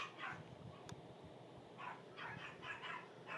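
Dogs barking faintly in the distance outdoors, a few short scattered yips and barks in small clusters over low background noise, no talking.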